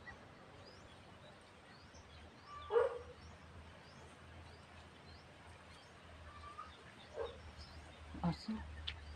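A dog outdoors in a rural yard gives a few sparse barks and whimpers, some distance away, over a low hum with quiet talk around it.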